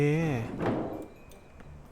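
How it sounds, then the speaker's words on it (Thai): A door knock inside a Roblox game, a short muffled thud or two that follows a voice and stands fairly close and moderately loud against quiet game ambience. "อยู่ๆ ได้ยินเสียงเคาะเฉยเลย"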